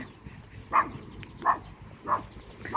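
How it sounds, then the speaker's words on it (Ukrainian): A small dog yaps four times at an even pace, short sharp barks heard at moderate distance over faint background noise. "Собачка гавкає."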